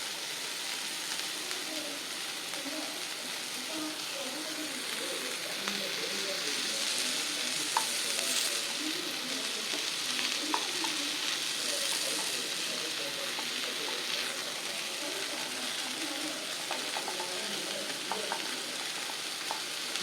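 Grated carrot fries in a pan with sautéed onion for a barnyard-millet adai, producing a soft, even sizzle over twenty seconds with light stirring clicks and no voices.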